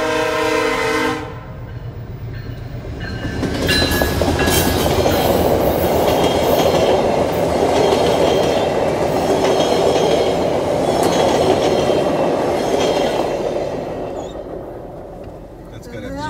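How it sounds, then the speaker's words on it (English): A passenger train rolls through a railway crossing, its horn blaring over a loud, sustained rumble and clatter of wheels on rails, with people talking nearby. "It's a passenger train too."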